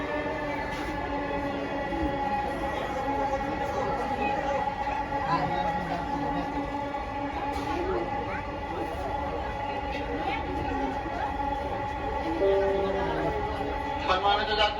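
A Dhaka metro rail train runs with a steady, close rumble and a whining electric hum that holds level throughout. Faint voices can be heard inside the carriage.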